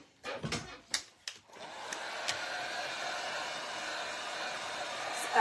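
Hair dryer blowing steadily and close after a few brief knocks and handling sounds, a constant broadband whoosh that holds to the end.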